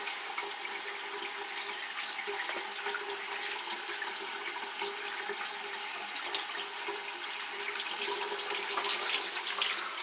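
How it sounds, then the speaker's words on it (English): Warm water running from a tap over a cheap blonde-knot shaving brush in a bathroom sink, a steady splashing stream that holds evenly for the whole stretch at moderate level with no talk. "I wet the brush up here, a little warm water"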